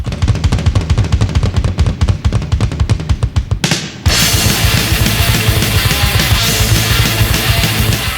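Thrash metal from a German band plays loud and dense, rapid machine-gun drumming and tremolo riffing that drops out briefly before crashing back in at full force.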